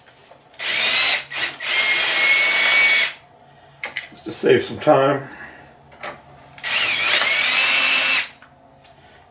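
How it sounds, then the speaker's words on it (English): A power drill driver removing bolts from a Nissan Maxima battery tray whirs in three bursts, loud and close, with someone speaking briefly between the second and third runs. "I'm just going to go on a driver this is just a drill driver."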